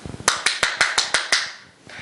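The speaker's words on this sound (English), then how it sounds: "Now I want you to clap that instead of saying it after I say it" Hands clapping the rhythm of Hickory Dickory Dock: seven sharp, evenly spaced claps close by, preceded by a few quicker soft taps.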